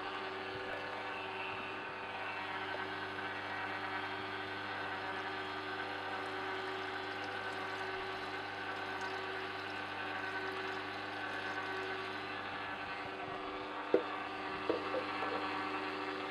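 A Sana EUJ-909 commercial slow juicer with rubber-bladed scrubbing parts runs with water poured in, giving a constant, even motor hum and churning wash throughout, with no talking.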